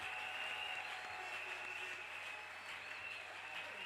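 A church congregation applauds steadily throughout, a dense, even wash of clapping from many hands with no pauses.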